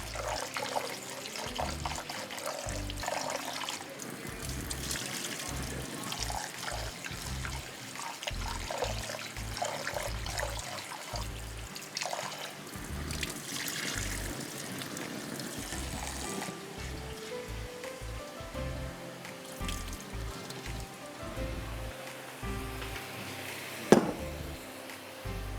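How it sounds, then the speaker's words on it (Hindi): Rice being rinsed in water for yakhni pulao, with continuous splashing and trickling, swishing and pouring sounds running steadily at close range with irregular small clatters and one sharp knock near the end. "चावलों को मुझे धो लेना है पहले, 3-4 दफ़ा पानी में धोइएगा।"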